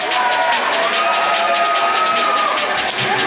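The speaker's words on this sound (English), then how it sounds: "Chicago! Make some fucking noise!" Live comedy show crowd in Chicago cheering, whooping and shouting loudly and continuously, a dense roar of many voices from a packed audience.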